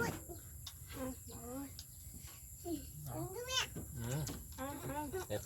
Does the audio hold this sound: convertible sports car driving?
no